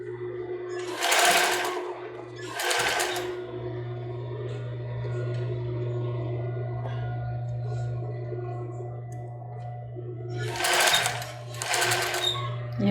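Sewing machine stitching fabric for a cropped top: a steady, continuous mechanical hum runs nearly the whole time, broken by brief pauses, with a few louder bursts of stitching noise.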